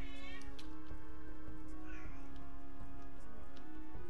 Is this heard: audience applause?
no